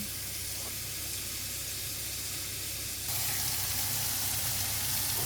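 Carrots and Baguio beans hiss and sizzle steadily as they are stirred together in a frying pan, the frying noise growing louder and brighter partway through, with no talking.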